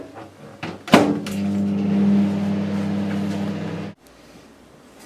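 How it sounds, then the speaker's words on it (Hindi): A microwave oven hums steadily while roasting besan for laddoos, preceded by a door clunk and a beep, then the motor drone cuts off abruptly near the end. "अब हम इसको दूसरे मिनट के लिए फिर से माइक्रोवेव में रखेंगे।"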